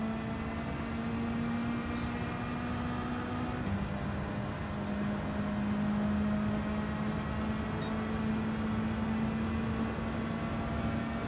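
A car engine in Gran Turismo 7 drones steadily at speed up a hill, a sustained hum that drops in pitch once as a gear changes, then holds steady with no talking.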